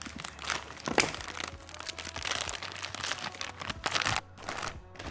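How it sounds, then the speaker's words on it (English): Scissors cut into a thick plastic bag holding pottery clay, giving a run of close, loud crinkling and rustling with sharp snips and crunches before a brief pause. "So now I've cut the bag open"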